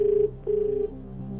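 An electronic telephone ring tone on a KBC quiz show set sounds in two steady bursts with a short gap, followed by a softer tone, close and clear with no talk over it.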